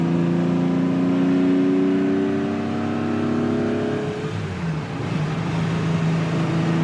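A Ferrari 250 GT Lusso on a gentle warm-up drive growls with a deep, steady engine note that holds, then drops off and settles lower after a gear change, heard alone without talk.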